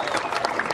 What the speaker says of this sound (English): keep the applause going for Jesse Miley Dyer